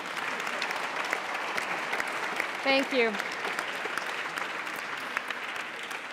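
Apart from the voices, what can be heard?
audience applause at conference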